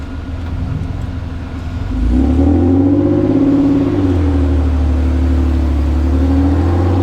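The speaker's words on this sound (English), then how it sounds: "Got some good tire howl on this one." One-ton Toyota truck with a four-cylinder engine and manual transmission driving through sand at Sand Hollow, the engine building up after two seconds into a loud sustained whine and tire howl, with pitch wavering as it pulls.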